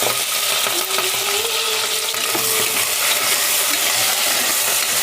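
Green chillies and onions frying in hot oil for a biryani, a steady close sizzle with faint stirring clinks, continuous and even throughout with no talk.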